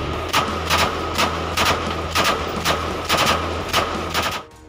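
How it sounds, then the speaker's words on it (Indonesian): Filmed gunfire from a firefight in Papua, with rapid bursts of automatic fire cracking out in a regular rhythm roughly every half second to second, loud and close, with no talk. "Dalam video tersebut memperlihatkan aksi baku tembak TNI dengan kelompok kriminal sipil bersenjata."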